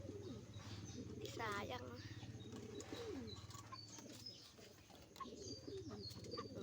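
Pet pigeons, including two blue bars, cooing softly in a loft, with occasional chirps and faint wing movement under someone talking close by.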